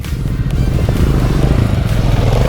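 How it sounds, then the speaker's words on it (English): A single-cylinder Royal Enfield Himalayan motorcycle engine thumps loudly and steadily up close on a back-country trail, a deep rhythmic putter holding for a couple of seconds. "One more motorcycle Himalayan comfortably comes in."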